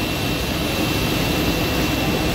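A new dyeing machine motor runs inside a company workshop, giving a loud, steady, broadband roar with no break and no voices.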